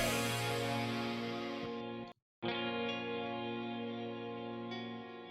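Sustained chords on a clean electric guitar with a shimmering chorus-like effect in a pop-punk song produced in Logic Pro X, ringing out, cut briefly by a short silence, then continuing.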